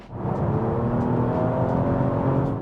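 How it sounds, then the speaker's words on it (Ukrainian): Nissan car with a 3.5-litre engine accelerating on the road, its exhaust giving a steady, loud revving roar that holds through the whole stretch with no talk. "А найбільш всього мені подобається це вихлоп. Я готовий натискати газ на цьому автомобілі кожну секунду."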